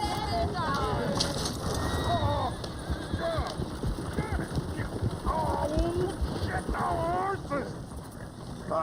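Horses in Red Dead Redemption 2 clopping along with a coach amid a busy outdoor scene, a whinny rising above the hoofbeats, birds chirping and a steady background bed throughout.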